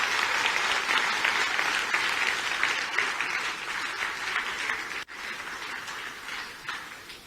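An audience at a public discussion applauds in a dense, sustained wash of many hands clapping, loud and fairly close, briefly dipping midway before continuing to the end.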